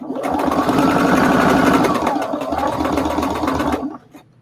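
Sewing machine stitching denim for an upcycled jean jacket, a loud, steady, close whirring run of rapid stitches lasting about four seconds before stopping abruptly.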